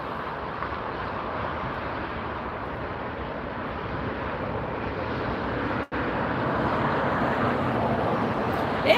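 A steady broadband roar of an airliner landing at LAX fills the whole stretch, loud and constant, with a brief dropout partway through and some wind buffeting on the microphone.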